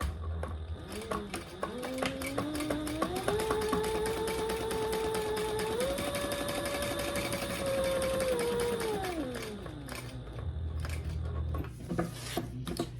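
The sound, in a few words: sewing machine back stitching a bag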